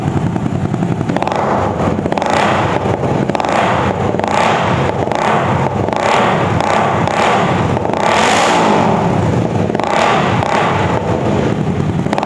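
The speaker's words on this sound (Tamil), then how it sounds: "ஸோ வண்டியை திருப்பி விட்டுட்டு அதுக்கப்புறம் எக்ஸாஸ்ட் நோட் காட்டுறேன்." An MV Agusta F3 motorcycle with a modified racing exhaust, revved up loudly and repeatedly, each blip swelling and falling back in a continuous, aggressive, close-up exhaust roar with no talking.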